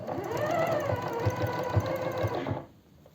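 A sewing machine stitches along the neckline of a lace cardigan, giving a steady close whirring hum with a regular pulsing beat for about two and a half seconds before stopping.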